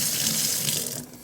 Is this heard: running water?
yes